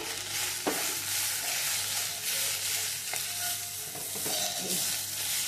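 Thuthuvalai leaves and grated coconut sautéing in a pan, a steady close sizzle with spatula scrapes and stirring clicks throughout, no voices.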